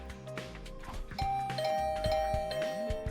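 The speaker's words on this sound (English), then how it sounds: "I didn't like the sound of that flurry of doorbell rings." A rapid flurry of electronic doorbell chimes from The Hundred Line video game, several ding-dong rings overlapping in quick succession over soft game background sounds.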